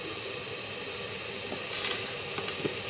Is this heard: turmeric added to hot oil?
yes